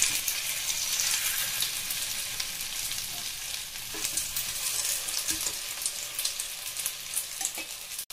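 A potato mix, coated in all-purpose flour, fries in oil in a pan over a medium flame, giving a steady close hiss and crackle of sizzling with a few soft knocks and no talk.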